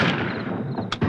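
A gunshot in a South Indian action film dubbed into Hindi, a loud, dense burst of gunfire filling the whole second with booming echo, cut by a brief sharp crack near the end.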